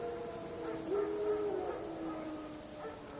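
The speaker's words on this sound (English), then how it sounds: "No. Wild dogs." Wild dogs howl in a forest in The Witcher 3, a drawn-out, wavering howl rising and falling over a low ambient game backdrop, moderately distant and fairly quiet.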